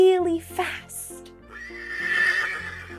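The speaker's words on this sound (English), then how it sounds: "H is for horse. Horse. Horses love to run really fast." A horse neighs with a rising then wavering whinny over light background music, the call clear and fairly close before fading into the music.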